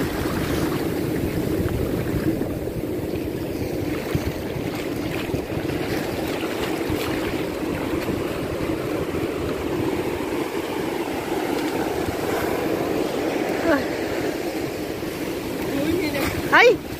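Sea waves wash onto the shore in a constant rushing roar, with heavy wind rumble on the microphone and people talking nearby.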